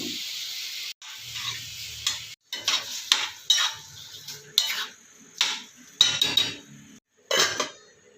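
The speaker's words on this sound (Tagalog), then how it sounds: "nagigisa ako ng ampalaya" Bitter gourd (ampalaya) is sautéed in a pan: repeated scraping and clinking of a utensil against the pan in separate bursts, with faint sizzling between strokes and no talking.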